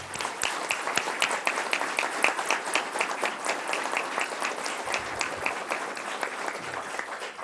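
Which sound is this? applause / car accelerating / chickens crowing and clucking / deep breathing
applause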